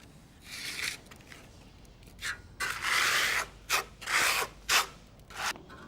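Trowel working stone-finish plaster across a wall in different directions, giving repeated scraping, rasping strokes of uneven length with short pauses between them, close up and alone.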